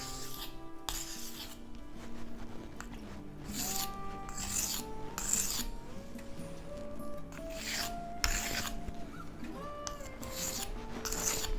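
A blade is stroked across a sharpening stone, a faint scraping rasp repeated in short even strokes, quiet and close with background hum.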